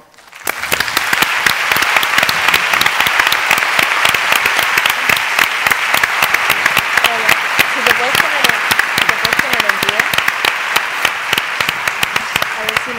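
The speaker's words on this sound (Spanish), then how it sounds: "y un aplauso para ella." An audience at a parenting conference claps loudly and continuously, the sharp individual claps packed into a steady roar; a few voices sound faintly underneath.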